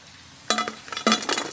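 Chicken pakora frying in oil, heard as two short bursts of metal-on-pan scraping and clinks over a soft sizzle, close up.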